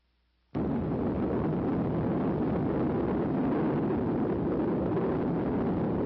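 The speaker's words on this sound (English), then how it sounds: "all personnel are tensely awaiting the detonation" A 1948 Operation Sandstone atomic test detonation arrives as a sudden, loud, sustained roar of broadband rumble that starts abruptly after a brief near-silence and holds steady to the end, with no voices.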